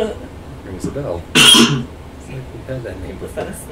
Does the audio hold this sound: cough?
yes